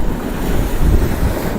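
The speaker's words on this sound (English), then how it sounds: "dumping rain and whipping winds, sending waves crashing into the shoreline" Rough surf crashes against a Florida Keys shoreline under strong, buffeting wind as Tropical Storm Laura approaches, a loud, dense roar with gusts hitting the microphone.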